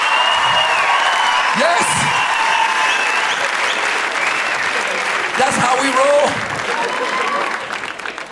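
An audience at a comedy show claps steadily and rhythmically throughout, with voices talking and calling out over the continuous clapping.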